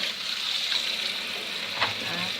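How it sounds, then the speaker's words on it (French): Tap water runs steadily into a sink while fresh purslane is rinsed, giving a constant hissing gush with small splashy changes as the leaves move under the stream. "il faut rincer plusieurs sous le robinet comme ça."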